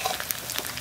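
Small rice flour fritters fry in a little oil over moderate heat, giving a fairly faint, steady crackling sizzle that lasts under a second.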